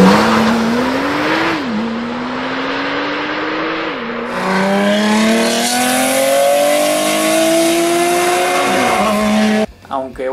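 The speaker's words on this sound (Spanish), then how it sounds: "siempre es bueno y más divertido escuchar el ruido del motor a combustión" Combustion-engine race car revving hard, its engine note climbing and dropping in repeated sweeping gear changes, loud and close, with a second higher-pitched pass joining midway before cutting off abruptly near the end.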